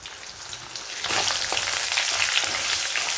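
Red chillies and curry leaves frying in a hot pan, a soft hiss at first that swells into a loud, dense crackling sizzle, with no voices.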